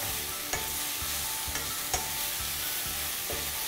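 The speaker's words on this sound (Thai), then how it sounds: "ทีนี้ผมจะใช้เวลาอยู่กับเจ้าตัวหอมใหญ่เนี่ย เพื่อผัดให้มันนิ่มนะครับ" Onions sauté over low heat in a pan for onion soup with a bouquet garni, a soft steady sizzle broken by regular scraping stirs roughly every half second, close and alone without speech.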